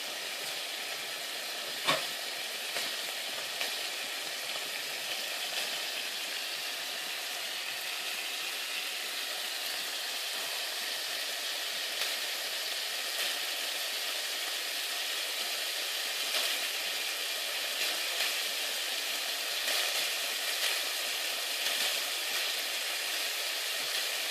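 Bacon sizzles in a frying pan as a constant, even hiss that holds steady from start to finish, close and moderately loud, with a single faint clink near the start and no voices.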